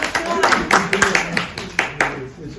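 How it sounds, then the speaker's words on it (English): Scattered clapping from a small audience at a screening, a few distinct claps in an uneven rhythm over about two seconds, fairly close, with some faint voices mixed in. "Why don't we give him a round of applause?"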